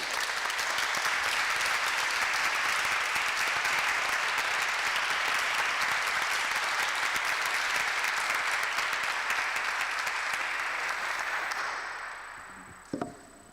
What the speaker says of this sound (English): Should we all give ourselves a round of applause and call at the end of the day?